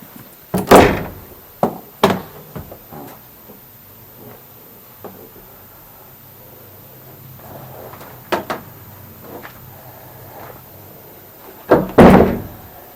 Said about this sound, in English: That's the front door.